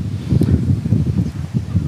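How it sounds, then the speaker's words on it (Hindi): Strong wind gusting over farm fields under dark storm clouds, with coconut palms nearby, makes a loud, low, rumbling buffet against the microphone in uneven surges, with a faint rustle. "तेज़ हवाएं चलने लगी है।"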